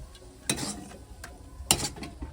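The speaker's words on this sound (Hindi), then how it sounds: "हाँ लीजिए दाल तड़का लग गया" Dal tadka tempering hitting hot oil, giving two sharp bursts of sizzle amid softer clattering and stirring in a kitchen, close and without talk.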